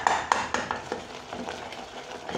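Caramel melting in a pan is stirred with a utensil, giving a series of light scraping, clinking strokes near and fairly quiet, over a soft background sizzle with no voices.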